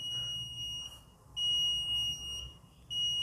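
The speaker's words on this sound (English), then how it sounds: "One of the sensor records a high output and the buzzer will beep." An Arduino circuit buzzer sounds a piercing continuous tone in three long bursts separated by brief gaps, close and alone over a faint low hum.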